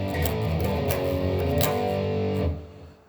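Electric guitar plays a phrase of distorted power chords with an effects-laden tone, a loud sustained strumming pattern that cuts off and rings down near the end.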